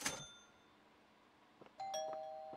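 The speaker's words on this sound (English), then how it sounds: "Ding dong, there it is." Two doorbell rings announce a delivery in the video game PC Building Simulator: a bright chime fades out, then after a short gap a second ding-dong rings with lingering tones.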